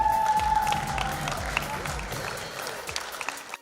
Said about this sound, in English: we keep the applause going for Eulalie Downer